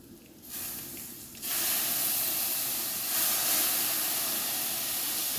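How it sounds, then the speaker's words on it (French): Pasta cooking water poured slowly into a pan of frying bacon (lardons) for carbonara, erupting into a loud, steady sizzling hiss that persists after a quieter start. "mettre tout doucement de l'eau de cuisson des pâtes avec le lard"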